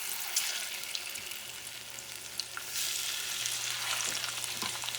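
Sweet plantains frying in shallow oil in a pan over moderate heat, a steady crackling sizzle that swells slightly as pieces go in, with a faint low hum beneath.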